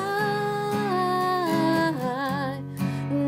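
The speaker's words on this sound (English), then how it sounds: "So we could stick with the same exact strumming pattern that you just used." Acoustic guitar strums the chorus chords of a song in a steady pattern, each chord ringing out clearly and close, with no voices.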